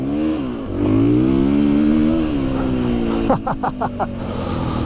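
KTM 350 EXC-F enduro motorcycle riding in strong wind, its single-cylinder engine droning loud and close with rising and falling revs, briefly choppy near the end.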